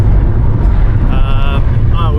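A taxi rumbles over a rough, bumpy road across Iran, with steady loud low-end road and engine noise throughout while people talk inside the cabin.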